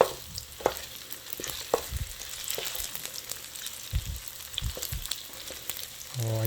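Tteokbokki rice cakes fry in plenty of oil in a pan, a soft continuous sizzle broken by scattered spatula clacks and scrapes as they are stirred, close and moderately loud, with no talking.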